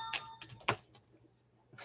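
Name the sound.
phone ringing in the background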